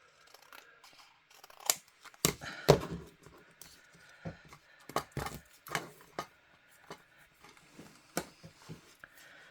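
Scissors snip through paper card during a papercraft project, a series of close, crisp cuts in irregular bursts with quiet pauses between them and no talking.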